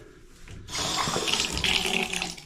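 A shower with a failing mixing valve is switched on: after a quiet moment, water suddenly bursts into a loud, steady rush that keeps running close by.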